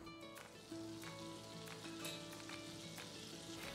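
Butter melts in a pan with a soft, steady sizzle and faint crackle, quiet and continuous, with no talking.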